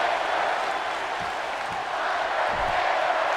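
Video game wrestling arena crowd during an Undertaker match, a steady broad roar of massed fans with faint rhythmic chanting pulses, continuous and fairly loud throughout.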